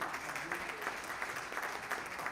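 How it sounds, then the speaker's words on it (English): Attendees at the opening ceremony of an annual higher-education conference applaud themselves, with steady but fairly faint clapping from a large crowd that continues evenly throughout. "Give yourselves a round of applause, please."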